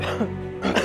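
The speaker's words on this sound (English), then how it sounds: "She's coughing all over her food." A woman coughs over her food: a short, close throat-clearing cough, then a second rough burst less than a second later.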